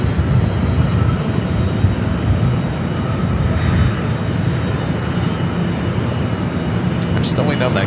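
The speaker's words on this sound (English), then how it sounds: "Viva A320 now rolling down the 25 right." An Airbus A320 in Viva livery rolls down runway 25R at Los Angeles International Airport, a loud, sustained broadband engine roar that holds steady throughout.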